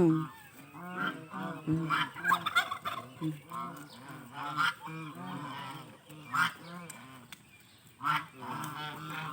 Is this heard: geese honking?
yes